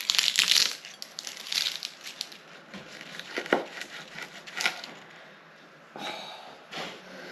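A knife cuts through the crisp filo pastry of a baked lamb and mint pie, giving several close, sharp crunching bursts with quieter gaps between them.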